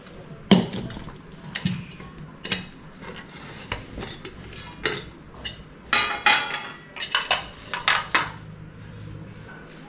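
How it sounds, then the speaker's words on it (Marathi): A pressure cooker is opened in a home kitchen. Scattered metallic clanks and clatters of pots and utensils follow in irregular bursts, close by and loud against a quiet background. "जरा मी कुकर खोलून घेते"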